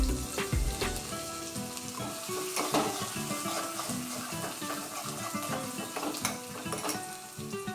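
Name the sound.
tempering sizzling in hot oil with cumin and mustard seeds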